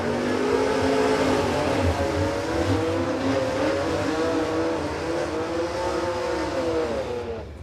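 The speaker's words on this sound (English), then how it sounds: "Nothing sounds like a hot Holden 6 when it's coming out of the water." A hot Holden six-cylinder drag car engine roars and revs hard as it launches and accelerates down a drag strip, loud and continuous, its pitch rising in repeated sweeps.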